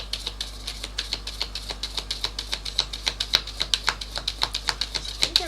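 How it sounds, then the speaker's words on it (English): Rapid, rhythmic crisp flicking of tarot cards, a steady run of sharp riffles close up with no talking. "I kind of feel like I want another shuffle."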